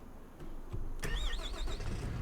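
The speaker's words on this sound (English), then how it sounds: "let's hop into the harvester anyways" Combine harvester engine starting in Farming Simulator 25, a sharp ignition click followed by the engine catching and settling into a steady mid-pitched idle.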